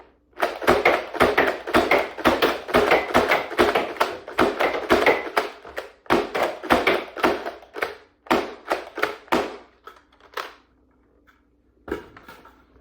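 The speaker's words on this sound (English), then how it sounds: "Slam fire." A Dart Zone Pro Max Stryker 2.0 blaster, rated at 200 FPS, slam fires Force Ember foam darts in a fast, loud string of sharp snapping shots, then a few slower, spaced pops before it falls quiet.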